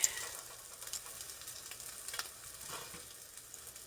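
Salmon croquettes frying in a skillet, a faint, steady sizzle and crackle with small pops, heard alone without talk.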